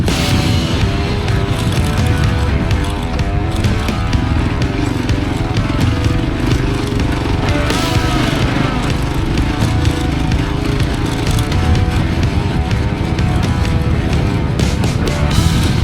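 Motorcycle riding on a muddy, waterlogged dirt track in Africa: a loud, close engine drone runs the whole way with rough, uneven rumbling and rattling from the bumpy surface, and no talking.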